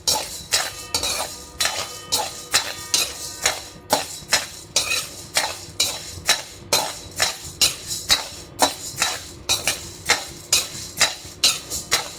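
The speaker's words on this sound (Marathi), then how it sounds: "आपण आता ज्वारी भाजत आहे. ज्याप्रमाणे बाजरी भाजली त्याचप्रमाणे ज्वारी भाजून घ्यायची." Sorghum (jowar) grains dry-roasting in a pan rattle and scrape in a steady, loud rhythm of repeated stirring strokes, close up and with no talk.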